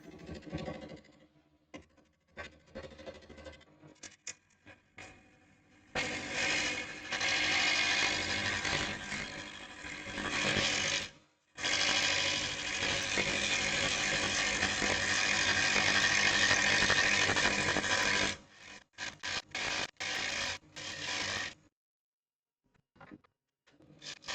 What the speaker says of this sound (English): a quick true up of the edge using the 1/2 inch bowl gouge